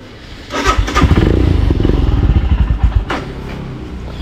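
A just-serviced motorcycle engine sputtering and running unevenly, loud and close, with rapid chugging firing pulses that swell and then fade, no talk over it.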